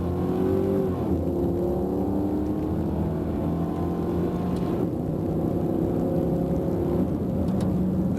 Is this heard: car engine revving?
yes